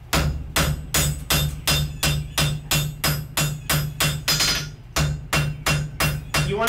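Hammer blows on wrought iron held at welding heat on an anvil, working the sides into the faces: a loud, steady run of about fifteen ringing strikes at an even rhythm, with a forge hum underneath and no talk.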